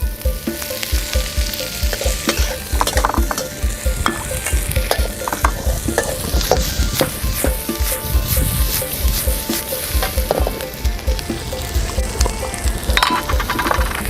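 Pork sausage (moo yor) fries in a pan with constant sizzling and busy scraping of a spatula, loud and close throughout, with no voices.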